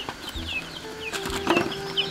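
A chicken clucks and squawks close by in short, irregular bursts, with faint background chirps.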